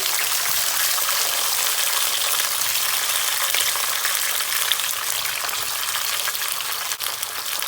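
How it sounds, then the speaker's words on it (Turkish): Loud, continuous sizzling and crackling as tomatoes hit hot oil in a pot, a dense frying hiss that barely varies and has no talk over it. "Hemen domatesleri atıyoruz."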